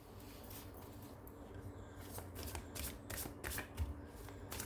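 A deck of oracle cards is shuffled by hand close up, giving soft repeated riffling and flicking bursts over a quiet background, with no talking.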